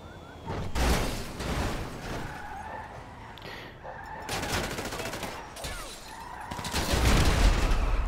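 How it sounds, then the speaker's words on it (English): Bursts of rapid pistol gunfire in GTA Online, loud and crackling in several clusters separated by quieter gaps, with some game engine and ambient noise underneath. "Seriously, dude, you're shooting at me?"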